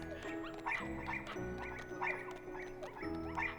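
Several dogs in the Kingdom Hearts video game bark and yip over a busy, loud game soundtrack, with short repeated bursts through the scene.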